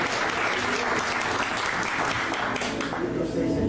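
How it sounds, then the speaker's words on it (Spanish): A church congregation applauds in steady, sustained clapping that fills the room at an even level. "Si van a aplaudir, aplaudan bien, que es para Cristo, no es para mí."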